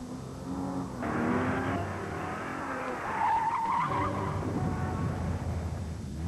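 Continental tires shriek and skid on a car pushed through a torture test, a long wavering squeal over engine noise that rises and falls across several seconds.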